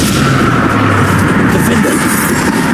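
Spell blasts from Confringo and Bombarder cast in Hogwarts Legacy, a continuous loud barrage of booming, gunfire-like bursts with a dense rumbling low end and no clear gaps between them.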